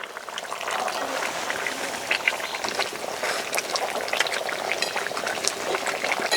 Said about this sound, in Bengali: অল্প পরিমাণে একটু ঝোলের জন্য জল দেব।